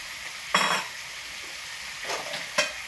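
Flour mixture is added to sautéed bitter gourd sizzling in a pan, with a burst of frying hiss and stirring scrapes near 0.5 seconds, then quieter stirring and a second sizzle surge, no talking.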